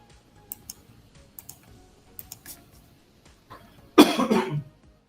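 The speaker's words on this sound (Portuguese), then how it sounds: "Desculpe minha tosse" Soft keyboard clicks tick away quietly, then a single loud, rough cough from a man with a lingering flu bursts out near the end.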